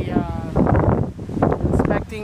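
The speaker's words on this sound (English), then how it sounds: "because it's so windy out" Strong gusts of wind buffet the microphone during a beehive inspection, roaring in surges over and under a person talking.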